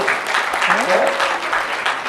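Audience applause at an Indian medical conference, continuous clapping mixed with a voice speaking over it throughout.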